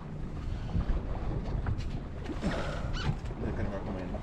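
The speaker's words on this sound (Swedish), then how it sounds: "Vi får lite vind här nu." A wind gust sweeps over a racing sailboat during a club race, with steady buffeting wind noise on the microphone, water rushing along the hull and occasional creaks, while crew members talk now and then.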